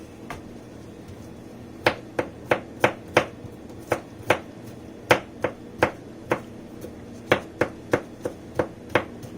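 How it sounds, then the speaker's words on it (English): A knife mincing fresh garlic on a cutting board gives about twenty sharp chops in an uneven rhythm, close and clear against a quiet kitchen background. "we're going to make minced little garlic pieces"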